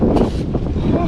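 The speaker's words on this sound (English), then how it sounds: "It's so windy" Strong wind gusts outdoors buffet and roar close by, a dense rumbling noise through the short stretch with no talking.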